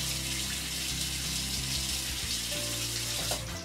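Water running steadily from a tap, as when pouring water to bathe a doll, a continuous loud hiss and splash that fills the whole short stretch with no talk over it.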